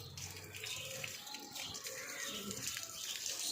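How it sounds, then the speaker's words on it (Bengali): A water pump running as dirty, iron-laden water gushes out of a long-unused direct line, a continuous loud splashing rush of flowing water close by. "এখন পাম্প চালিয়েছি, কি ময়লা জল বেরোচ্ছে।"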